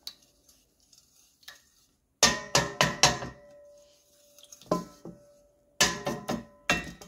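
Mashing ingredients in a video game: sharp, rapid clicking knocks in quick bursts of three or four, separated by quieter gaps with faint tapping.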